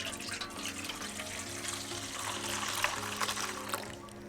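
Warm milk pours into a big bowl in a kitchen, a soft continuous trickling splash that stays faint and close, running for a few seconds without a break.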